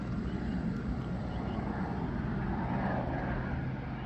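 A crop-spraying helicopter flying low overhead, giving a steady broadband rotor and engine roar that holds even and fairly close throughout, with no talk.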